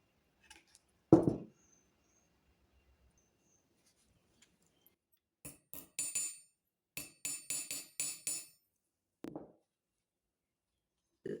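A hammer strikes a small copper letter set into a copper envelope pendant, giving sharp, ringing metallic taps: one early blow, then a quick cluster of about a dozen close, crisp hits separated by near silence.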